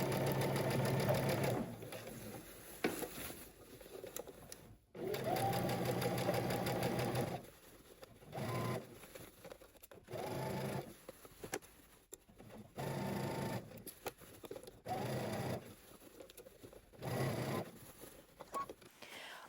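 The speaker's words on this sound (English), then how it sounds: "We're gonna head to the sewing machine and we're going to stitch around." A sewing machine runs in repeated bursts as stitching goes around a garment sleeve, whirring for a second or two at a time with short pauses between runs, up close.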